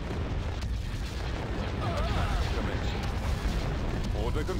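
Space battle in the Star Wars game with the Awakening of the Rebellion mod: dense, continuous rumbling barrage of weapons fire and booming impacts, loud and unbroken, with a voice speaking over it.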